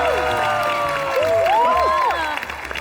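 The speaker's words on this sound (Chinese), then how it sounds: "我们掌声欢迎小花宋佳。" A television debate-show studio audience claps and cheers to welcome a guest actress, with broad crowd applause running throughout under a melodic music bed with sliding tones.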